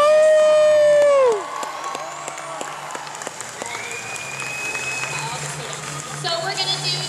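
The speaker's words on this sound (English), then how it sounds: "give these guys a big round of applause each time" A crowd at a 2016 comic convention costume contest in New Orleans applauds and cheers after a loud opening tone, with steady clapping and scattered whoops continuing throughout.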